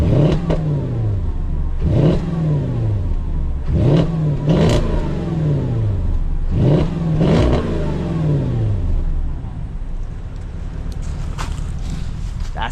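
Porsche Cayenne engine, sounding like an Audi V8, revved in four sharp blips about two seconds apart, each a loud rising bark that falls away, then a steady idle near the end.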